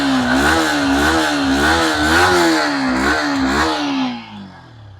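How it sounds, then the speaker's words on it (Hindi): Yamaha XSR 155 motorcycle engine revved repeatedly in close, loud, rhythmic bursts that rise and fall several times before the throttle closes and the engine drops back to a quieter idle. "ये है इसका साउंड यामाहा XSR 155 का"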